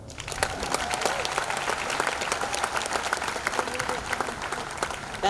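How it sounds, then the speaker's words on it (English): Parents rallying at a Big Ten protest outside Ohio State's Horseshoe stadium applaud steadily, a continuous outdoor wash of many clapping hands with scattered sharp claps standing out throughout. "Y'all give her a round of applause"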